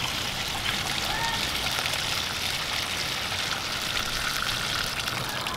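Water poured slowly into a backyard mini pool pond while adding fish, a continuous close trickling and splashing that stays steady and fairly loud from start to finish.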